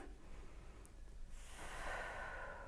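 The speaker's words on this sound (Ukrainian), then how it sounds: "Видих, вдих, видих" Slow breathing in and out during a posture exercise, a faint close exhale followed by a breathy hiss of air, heard alone without talk.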